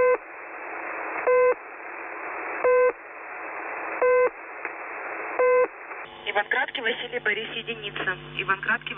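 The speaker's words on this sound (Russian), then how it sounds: "Примеры сообщений номерных радиостанций." Numbers station radio transmissions play as a loud hiss broken by five short, regular beep tones, then switch to a filtered, radio-like voice reading out a message.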